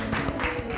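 An audience at a Korean lecture for seniors claps in a brief, dense wash of applause.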